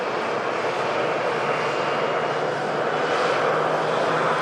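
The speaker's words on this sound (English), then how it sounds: "Airbus A380 next to go." Airbus A380 airliner taking off, a loud continuous broadband jet engine roar that holds steady throughout, with no talking.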